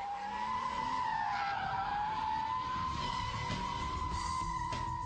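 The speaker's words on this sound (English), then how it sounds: "if you're wondering why it's called a donut, just look at those black marks it leaves on the tarmac" A car doing donuts on tarmac from a standing start with full lock and high revs, its tires squealing in a long, loud, wavering skid under engine roar, without talk.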